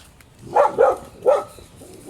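A dog barks several times nearby in short, sharp bursts, a quick pair followed by more after brief pauses.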